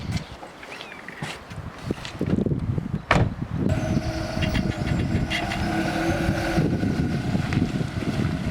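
A Volkswagen Polo Mk4 (9N) drives on country back roads, its engine and road noise rising into a steady close cabin rumble after a few seconds of quieter shuffling, with no talking.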